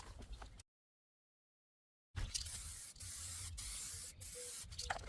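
An aerosol can sprays clear coat onto a car headlight, giving a steady close hiss that starts after a short silence and continues with brief gaps between bursts.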